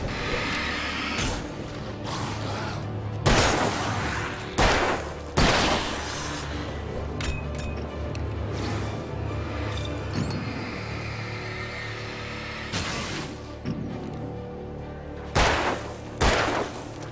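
Bursts of gunfire ring out in the Alan Wake video game during a forest section, loud shots scattered irregularly across a steady ambient bed with longer gaps between clusters.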